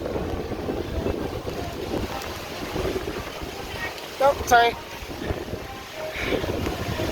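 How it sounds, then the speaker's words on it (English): Gusty Hurricane Ian wind buffets the microphone on a walk from the Dolphin to the Swan at Walt Disney World, a rumbling, uneven roar over choppy water noise, with a brief spoken remark partway through. "It's a bit windy"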